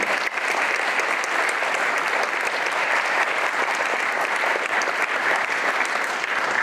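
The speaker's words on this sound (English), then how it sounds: "you deserve a round of applause for being here for this great tribute." A crowd at an outdoor Wreaths Across America ceremony in Somerset claps steadily and warmly, a dense, even patter of many hands that holds for several seconds without talk.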